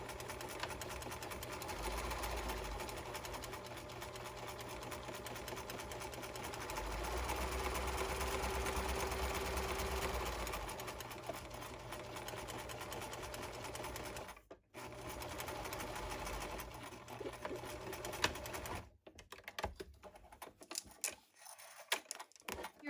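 A sewing machine hums along steadily as it sews fabric petals for a garden pouf with green thread, running almost continuously with a couple of brief stops and a backstitch near the end.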